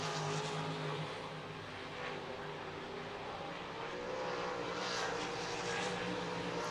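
RaceSaver sprint cars circle I-90 Speedway in a steady, loud wash of engine roar that swells slightly near the end, with no clear gaps between passing cars.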